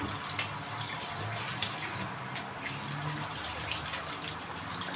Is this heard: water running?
yes